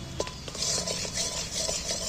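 Spices for a fish curry sauté in a pan under brisk stirring, a close, continuous scrape and clink of spoon against metal over a soft sizzle, with no talk.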